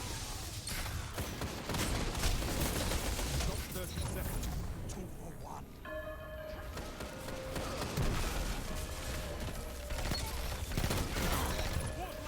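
Outbreak Perfected pulse rifle hip-fired in Destiny 2 PvP, rapid bursts of gunfire loud amid game effects and impacts, with speech from a player mixed in.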